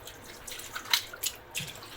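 Water runs and drips in soft, irregular splashes while goat intestines are scrubbed and washed by hand, faint and close with no talking.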